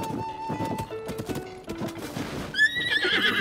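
A golden horse whinnies loudly over steady hoof clip-clops in the video game Zelda: Tears of the Kingdom, with a bright, rising neigh near the end, set against game-style background sound.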